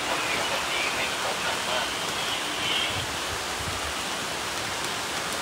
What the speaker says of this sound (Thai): ฝนตกอีกแล้ว